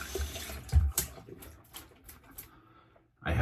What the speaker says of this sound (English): Now let me rinse off this brush.